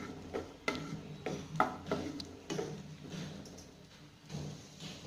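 A spoon stirring cashews and raisins frying in a spoonful of ghee, producing faint, irregular metallic taps and scrapes against the pan at close range.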